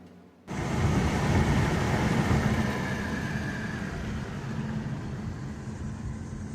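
An Infiniti Q50 with a newly repaired crankshaft sensor, driving with a steady low engine and road rumble that starts abruptly and holds at a fairly loud level, with no talk.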